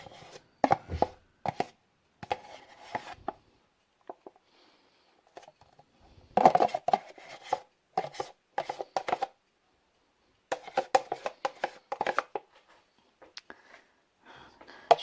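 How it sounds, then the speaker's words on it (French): A spoon scrapes leftover cheese from a container in short, irregular bursts of scratchy scraping separated by quiet pauses, close and fairly soft. "Je vais prendre une cuillère pour racler le reste de mon fromage"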